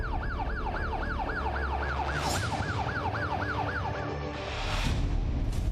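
A vehicle siren on an official's car in Vadodara wails in a fast, steady rising-and-falling cycle, loud and close, over a low rumble of traffic and engine noise.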